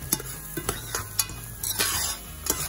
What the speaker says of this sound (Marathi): आपण हा रवा घालून तो चांगला परतून घ्यायचा आहे